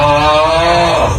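A husband's snore heard close and loud: one sustained, droning, tonal rumble lasting over a second, with a steady buzzing pitch.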